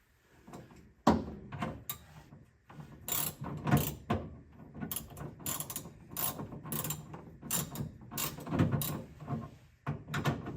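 Ratchet wrench turning a 17 millimeter metric bolt on a Dodge M37, sharp clicking bursts in repeated strokes with short pauses between them, close and loud with no talking.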